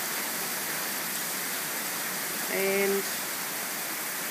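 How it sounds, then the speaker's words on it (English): Heavy rain pours steadily during a mountain thunderstorm near Westcliffe, a dense, even hiss that fills the whole clip, briefly joined by a short spoken word. "but it is pouring down"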